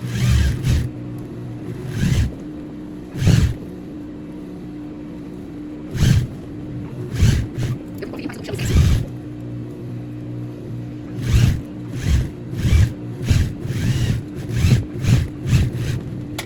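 A sewing machine runs in short, repeated bursts while stitching a seam on a structured corset dress, each clattering run lasting about a second with pauses between, close and fairly loud.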